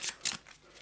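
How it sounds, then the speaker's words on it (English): A deck of Eldritch Horror game cards is shuffled by hand close up: two quick riffling bursts followed by softer card handling, with no talk. "Give it a shuffle"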